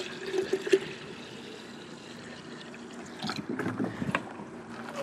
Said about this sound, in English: I'm going to take the deionized water jug here and fill this thing up to the top.